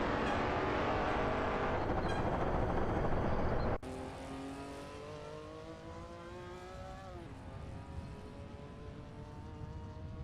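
Race car engines in an AI racing video game whine and rev steadily, one loud engine tone abruptly giving way to several overlapping engines with rising and falling pitches as cars pass.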